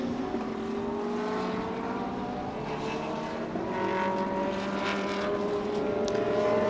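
Race cars at a live GT race in Thailand, a Supercar GTM Plus, GTM and GT Asia round, produce a steady loud engine drone with rising and falling tones as cars pass, continuous throughout with no voices.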